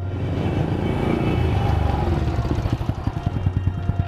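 A motorcycle engine from an animated Vietnamese folk-tale cartoon idles and putters, its low rumble turning into a steady pulsing beat over the last second and a half.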